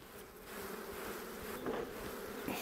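Dense, steady buzzing of many honeybees swarming close around an open beehive, continuous and loud with no pauses.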